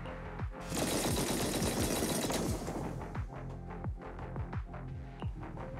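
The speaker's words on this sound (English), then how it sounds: "That was the sound of... a heavy cannon?" Heavy cannon fire erupts in the video game Zenless Zone Zero: a loud roaring blast swells and fades, followed by a rapid series of sharp mechanical clanks and thuds, with no talk.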